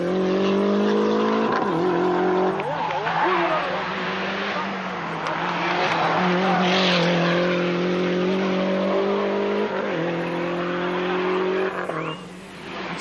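A 1988 Lancia rally car races flat out on a Monte-Carlo Rally stage, its engine roaring loud and close with rising and falling revs, gear changes and brief tire slides, while a commentator talks over it.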